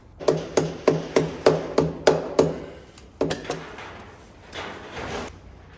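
Distributor caps being unclipped on the engine of a Centurion AVRE tank: a rapid run of eight evenly spaced sharp metallic knocks, a pause, then a few more clicks and a softer rustle. Close and loud, with no talking.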